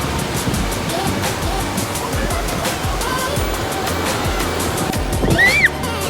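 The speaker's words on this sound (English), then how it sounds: "It's whenever the wave comes in." Ocean waves wash steadily onto a beach in a continuous loud roar of surf, with no clear break, and a brief high-pitched sound rises near the end.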